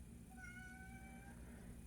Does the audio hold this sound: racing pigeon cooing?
no